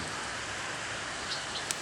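Continuous soft hiss of rain falling steadily, a dense even wash of drops with no voices.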